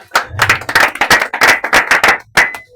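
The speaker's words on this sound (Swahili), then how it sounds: "Makofi." Church congregation at a Wednesday service clapping in uneven bursts, sharp close hand claps rising and falling over a few seconds with short pauses between.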